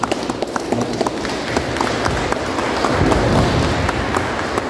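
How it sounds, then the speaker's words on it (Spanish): Wedding guests at a church ceremony in San Juan Mixtepec give the newlyweds steady applause, with dense, even clapping filling the room throughout. "Damos un fuerte aplauso a los hermanos de Teresa y Dios"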